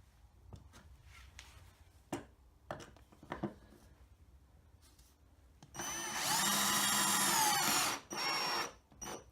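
A power drill drives screws into a kitchen-worktop corner desk, running in one loud, steady whine for about two seconds, then a shorter burst after a brief pause. Scattered taps and handling clicks come before it, with no talk.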